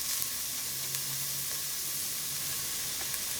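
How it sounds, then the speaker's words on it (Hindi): A soft, even hiss of onions frying in melted butter in a pan over low-to-medium heat, for pav bhaji, steady and fairly quiet with a few faint ticks. "हम बटर में ही प्याज को भून रहे हैं"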